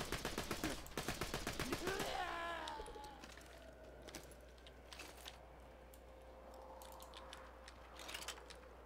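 A fast string of pistol shots from Borderlands 2, loud and rapid for about two seconds, then dying away into faint game ambience with a few scattered shots and talk.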